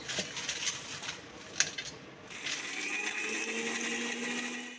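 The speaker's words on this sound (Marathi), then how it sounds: "आता हे न भाजताच बारीक करून घ्यायचे मिक्सरमध्ये" An electric mixer grinds unroasted dry red chillies into chilli powder, starting with rattling clatter and a sharp knock, then settling into a steady high whirring drone.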